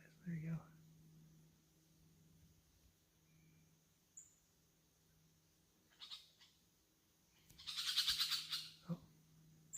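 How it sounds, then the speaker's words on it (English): Small birds squawk and chatter at a barred owl in Washington woods, with a few sharp calls early and a louder burst of harsh squawks near the end over a faint steady hum. "the little birds are mad at him."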